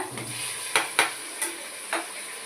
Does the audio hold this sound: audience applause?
no